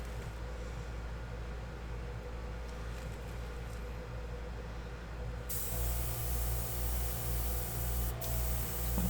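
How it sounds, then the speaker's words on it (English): Airbrush spraying paint for a Dutch pour, a soft continuous hiss that grows louder and brighter about halfway through, steady with no bursts and no talking. "as a collab, we decided to use our airbrushes"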